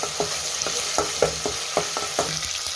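Ginger and garlic sauté in a pan with a steady soft sizzle, punctuated by regular scraping strokes of a spoon every half second or so, close and fairly quiet.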